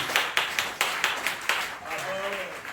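A church congregation at a Sunday service claps in a steady rhythmic beat, about eight sharp claps close by, followed by a short voice.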